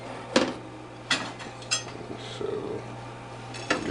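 Toast slices pulled from a Ninja Flip toaster oven and air fryer, a few sharp metallic clinks and rack scrapes over a low steady appliance hum, close and fairly quiet.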